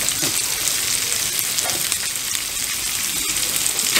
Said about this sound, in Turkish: Şimdi suyu attık, böyle bir karıştırıyoruz.